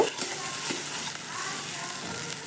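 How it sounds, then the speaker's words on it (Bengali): Spice paste sizzling in oil in a pan while salt is stirred in for a spiced duck egg curry, a steady soft frying hiss with faint scraping of the spoon, fairly quiet and without talk. "এবার এর মধ্যে আমি দিয়ে দেব এক চামচ পরিমাণে লবণ লবণটা দিয়ে একটু মিশিয়ে নেব"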